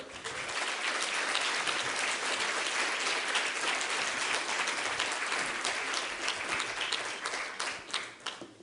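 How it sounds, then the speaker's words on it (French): Sustained applause from a conference audience in France, dense steady clapping that fills the room and begins to thin out toward the end. "Je vous prie de l'applaudir chaleureusement, Philippe Maugiron."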